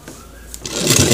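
A sewing machine stitches a trouser cross pocket, starting quietly and then ramping up into a loud, close, steady mechanical whir in the last half second.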